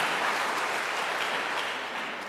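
Church congregation at a worship service applauding in praise, a steady wash of many hands clapping at moderate distance, sustained and slowly tapering.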